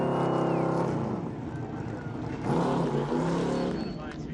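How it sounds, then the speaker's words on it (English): ARCA Series race car engines doing burnouts at Toledo Speedway roar and wail continuously at high revs, loud and close, with a pitched whine shifting partway through. "Dueling burnouts in the backyard of the ARCA Series."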